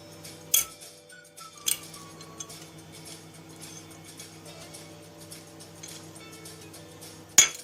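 Metal utensil clinking against a tray while corn, sausage and sucuk are stirred for a tray-baked kumpir, a few sharp clinks over a faint steady scraping and a low background hum.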